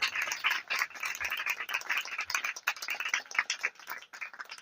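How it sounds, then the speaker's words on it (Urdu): A congregation claps loudly and steadily in a church worship service, a dense run of overlapping handclaps close and continuous with no talking. "زوردار تالیاں خداوند کے نام کو چلائیں"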